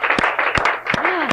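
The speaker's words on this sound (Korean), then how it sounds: "박수를 한번 치면 좋을까요?" Audience clapping at a church evangelism workshop, a dense burst of steady applause with a few sharper claps standing out, filling the short moment at moderate loudness.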